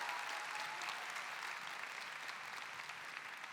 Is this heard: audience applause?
yes